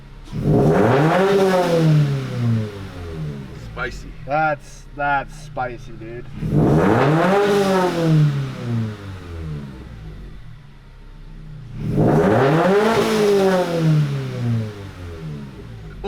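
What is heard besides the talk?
car engine revving with new header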